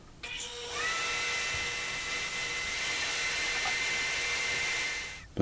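A table saw spins up and runs in a workshop to cut wooden dowels, a loud steady high whine lasting several seconds before winding down, with no talk.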